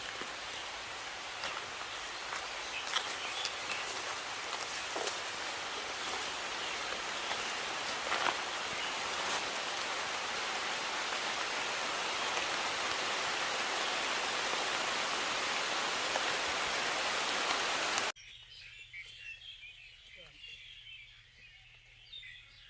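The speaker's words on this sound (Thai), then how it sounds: "ฝนตกเป็นช่วงๆด้วยพี่น้องตกตกหยุดหยุดครับ" Steady rain pours down with a constant hiss, faint birds chirping through it, then the rain abruptly drops to a softer, patchier patter.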